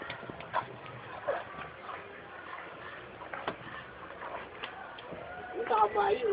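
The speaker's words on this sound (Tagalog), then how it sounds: "Kabayo." A horse's hooves clop irregularly at moderate distance, with people talking throughout.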